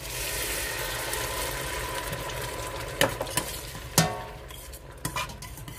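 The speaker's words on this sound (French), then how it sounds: "Et je vais verser de l'eau, donc l'équivalent d'un verre de moutarde." Water poured into a pan of chicken thighs simmering in tomato sauce: a steady, soft sizzling hiss, then a few sharp clinks of a utensil against the pan near the end.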